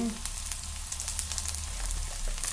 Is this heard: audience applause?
no